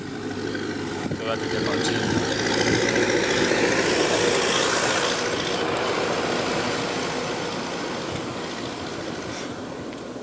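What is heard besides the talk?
tractor engine passing by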